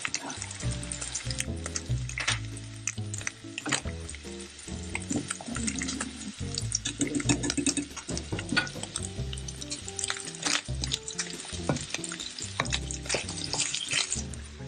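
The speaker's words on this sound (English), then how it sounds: "I'm going to add the potatoes now" Potatoes tumble into bacon frying in a pan for Japanese-style German potatoes, setting off a steady crackling sizzle with stirring and scraping clatter, fairly close, while a voice speaks now and then.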